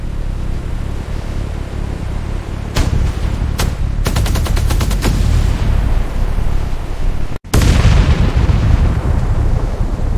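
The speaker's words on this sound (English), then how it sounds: "Live fire test. Target acquired." An M1 Abrams tank fires during a live fire test, with loud continuous rumbling, rapid bursts of gunfire and a sharp heavy blast followed by a roaring boom near the end.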